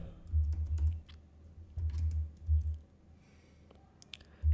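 A computer keyboard is typed on while SQL code is entered. Short bursts of close, crisp key clicks are broken by brief pauses, and no one speaks.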